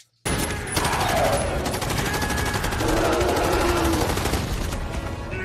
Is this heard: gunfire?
yes